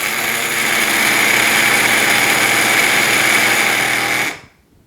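A coffee grinder whirs loudly and steadily as it grinds cocoa, a continuous close motor drone that cuts off abruptly just before the end.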